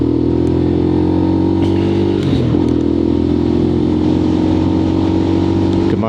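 Lexmoto LXR motorcycle engine running steadily during a ride test, a loud continuous drone with a brief dip and throttle change midway, recorded close on the move.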